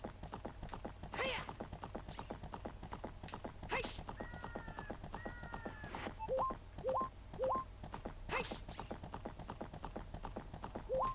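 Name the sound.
horse Epona galloping, Zelda Ocarina of Time video game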